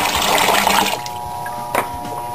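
Water gushes from a bucket into the pot of an Alto Shaam fryer during a boil-out, a loud splashing pour for about a second, then a quieter trickle and drip.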